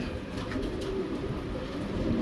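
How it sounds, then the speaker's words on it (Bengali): Soft, low cooing of a pair of black racing pigeons close by, gentle repeated murmurs over a steady background hum. "ব্ল্যাক দোপাস একজোড়া রেসার কবুতর"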